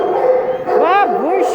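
A female shelter dog at the Cuyahoga County Animal Shelter gives a short bark followed by rising and falling whimpers, close and clear, over a faint room murmur.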